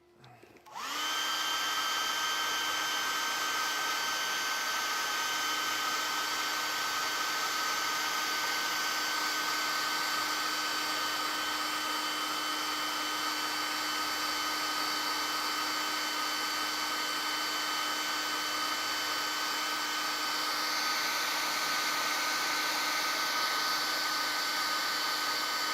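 A hair dryer runs steadily to dry paint on a tiny painted miniature figure, switching on abruptly and holding a constant close whir with a high tonal whine for the rest of the clip, with no talking.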